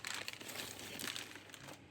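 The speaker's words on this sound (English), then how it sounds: "So excuse the rustling. This is why I hate tracing." Stiff craft tracing paper crinkling and rustling as it is handled over fabric, close and continuous with irregular crackly bursts.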